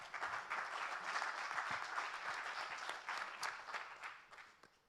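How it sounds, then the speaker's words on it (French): An audience at a Euro-Med-Africa plenary gives sustained applause for a minister of state, a soft, even wash of many hands clapping that tapers off toward the end. "On peut applaudir Monsieur le ministre d'État."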